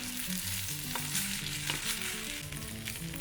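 Rice and mushrooms sautéing in butter for pilaf make a close, continuous frying crackle with stirring underneath. The short stretch has a faint tonal hum in the background and no talking.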